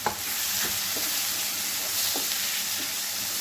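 Okra sabzi frying in a pan with spices, a steady sizzle carried throughout while a spoon scrapes and stirs in several distinct strokes, close and alone.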